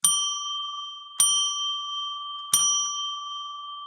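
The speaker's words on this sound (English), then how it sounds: "after we ring the bell to declare a" A bell rung three times to open a spiritual space before a tarot reading show, each clear, bright strike ringing out and sustaining while the next one sounds.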